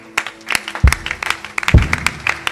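A church congregation claps in praise, with scattered, uneven hand claps and a few louder thumps, moderately close, with no clear voices over them.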